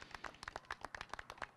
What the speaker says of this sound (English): would you all give Don an applause?